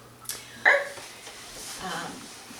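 Indoors in a kitchen, a dog lets out one short, sharp bark or yip at close range. Faint background voices sit around it.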